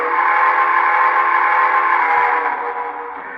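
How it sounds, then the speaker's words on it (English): A Broadway Limited Paragon 3 model of the New York Central S1b 4-8-4 steam locomotive sounds its whistle through a modified speaker, a loud steady chime-like blast held for about three seconds before tapering off. "we'll hit the whistle here"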